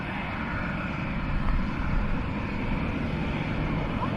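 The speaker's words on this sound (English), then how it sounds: "Our beautiful dreamy Dreamliner in from Doha shortly." A Boeing Dreamliner airliner arriving at Dublin Airport from Doha, heard as a steady, broad jet roar that swells slightly midway and holds at moderate distance throughout.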